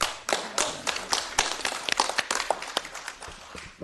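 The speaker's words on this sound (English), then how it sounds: "There you got a round of applause" A round of applause ripples through a council meeting room, with many hands clapping in a dense, uneven patter that holds fairly steady for a few seconds, moderately close and without talk over it.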